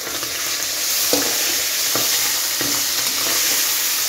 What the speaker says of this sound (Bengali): এখানে মাছ ভাজা বসিয়ে দিয়েছি। বাবারে বাবা কি ফোটা ফুটছে মাছগুলো